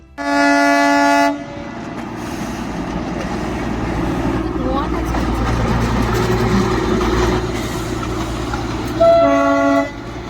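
The Darjeeling toy train whistle sounds twice near Batasia Loop, a steady tooting tone at the start and again near the end, with a rumbling engine and mechanical noise in between.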